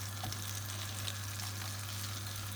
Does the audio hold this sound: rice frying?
yes